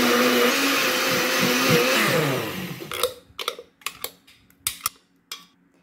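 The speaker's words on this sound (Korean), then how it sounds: "이제 여기에 물을 반컵 넣어주고요. 이제 갈아주겠습니다." A blender grinds vegetables with half a cup of water for broccoli kimchi, a loud steady whirring roar for about three seconds, then short sharp bursts as it pulses on and off several times.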